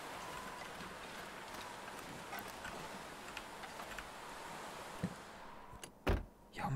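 A car is entered in The Long Dark game: soft wind-like background with faint ticks, then a few sharp door clunks and thumps near the end.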